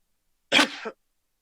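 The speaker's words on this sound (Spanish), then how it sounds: "una disculpa con la parte de los estornudos" A single short sneeze-like burst, close and fairly loud, with a sharp onset and a brief trailing exhalation, alone in silence.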